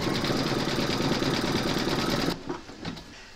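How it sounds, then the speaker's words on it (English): Embroidery machine satin stitching an applique patch on a scarecrow design held in a large hoop, a steady dense buzzing hum that runs for a couple of seconds then stops abruptly, leaving faint clicks and rustle. "Pop your hoop into your machine and stitch round number 7"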